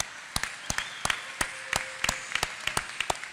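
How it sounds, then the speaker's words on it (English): Scattered claps ring out from an audience at a fall 2018 university recognition ceremony, sharp and uneven, as if only a few people are clapping, over a low room hum. "Give yourselves a round of applause."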